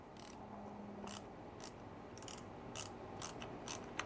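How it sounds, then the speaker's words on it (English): An 8mm socket and ratchet tighten screws on a Craftsman V20 pressure washer carburetor, producing quiet rapid ratchet clicks in short repeated bursts, close but faint, with no speech. "Use the 8mm socket and ratchet."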